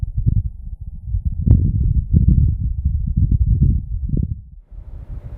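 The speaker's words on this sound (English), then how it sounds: "This is the sound of wind on Mars." Low, gusty wind on Mars buffets a rover's microphone in a continuous muffled rumble, swelling and easing for several seconds before dropping away.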